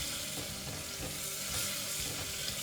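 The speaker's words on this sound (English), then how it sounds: "add your onions and saute them till they are golden brown" Chopped onions sizzle steadily in a hot pan for Rajasthani laal maas mutton curry, with a continuous close frying hiss and occasional soft stirring scrapes throughout.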